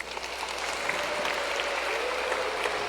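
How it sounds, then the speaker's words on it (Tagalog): A crowd at a Lenten recollection claps steadily for a few seconds, a dense wash of applause with no voices standing out. "Pumalakpak ng malakas."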